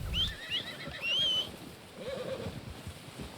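A horse in the video game Red Dead Redemption 2 whinnies in short high squeals over low background noise and soft hoof thuds, fairly faint and without talk.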